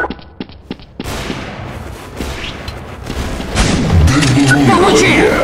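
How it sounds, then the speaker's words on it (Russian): Gunfire in Counter-Strike: Source, a few sharp clicks followed by a loud booming shot and echoing blasts amid chaotic battle noise, with voices talking over it. "Отличный выстрел!"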